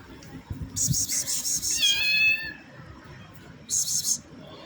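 A hungry kitten meows insistently several times in a row, high and close, then lets out one more meow after a short pause.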